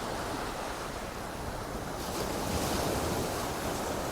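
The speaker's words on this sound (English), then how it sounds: "It's the tide coming in." Sea waves wash in with the incoming tide on Folkestone beach in the early morning, a steady broad roar of surf with some wind noise that swells a little louder in the second half, with no voices.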